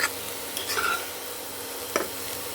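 Potatoes frying in a pan on a home veranda are stirred with a utensil, giving a steady sizzle broken by a few short scraping strokes. No one speaks.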